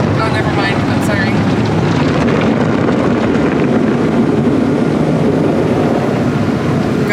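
A rinse cycle runs inside a Peco car wash tunnel at an express car wash, giving a loud, continuous rushing hiss of water spray drumming over the car with no break.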